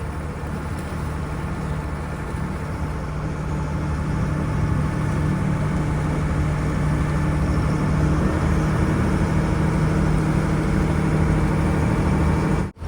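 A jangar ferry's engine chugs steadily on the backwaters of Kuttanad, a loud, close, low droning hum that holds evenly before cutting off abruptly at the end.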